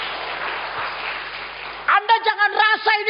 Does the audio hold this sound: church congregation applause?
yes